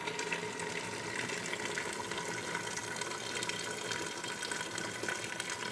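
Hot water is poured over meat in a cooking pot, making a steady, continuous gushing splash that runs unbroken at close range with no talking.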